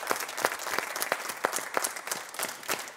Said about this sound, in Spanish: Un aplauso para nuestros compis de iluminación.